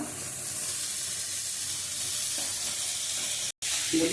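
Mashed boiled banana flower sizzles in a small amount of oil as it is stirred in a pan, a steady close frying hiss broken briefly by a short cut.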